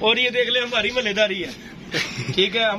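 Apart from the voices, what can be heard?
No distinct noise like a dog, phone or traffic.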